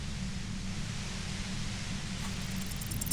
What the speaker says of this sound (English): The violent white noise becomes even more overwhelming closer to the compressor.